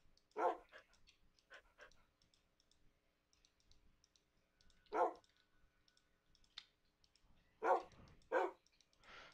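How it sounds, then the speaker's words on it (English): Dogs bark in short, scattered bursts inside a video game, a few sharp yips spread across quiet stretches with faint clicking between them. "Shut up, dogs, before I kill you."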